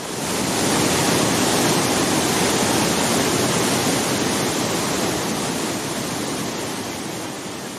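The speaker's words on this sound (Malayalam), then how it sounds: "പവലിയനുള്ളതിനാൽ ഈ വെള്ളച്ചാട്ടം ഏറെ അടുത്തുനിന്ന് അപകടരഹിതമായി ആസ്വദിക്കാമെന്നതും മറ്റൊരു പ്രത്യേകത." The Sreenarayanapuram waterfall in Idukki, heard up close from a viewing pavilion, gives a loud, continuous roar of falling water that holds steady throughout, with no talk.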